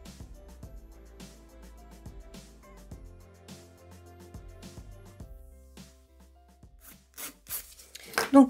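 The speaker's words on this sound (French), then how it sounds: "une fois que ma mise en forme à la lime est finie" A nail file shapes an acrylic gel nail with quiet, rhythmic rasping strokes, close-up and steady, followed by a few louder knocks and scrapes near the end.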